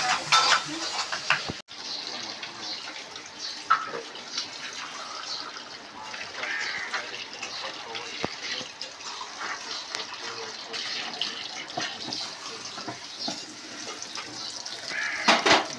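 Water runs in a steady, close gushing spatter while something is washed, with occasional splashes and knocks throughout.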